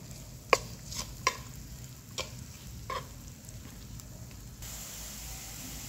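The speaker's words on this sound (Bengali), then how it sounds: "আবারও এগুলোকে একটু ভেজে নেব, তবে একবারে ব্রাউন কালার করব না।" Chopped green chillies fry quietly in a pan, a faint soft sizzle with a few light spoon taps and scrapes, the loudest near the start.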